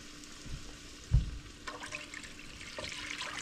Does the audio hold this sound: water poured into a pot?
yes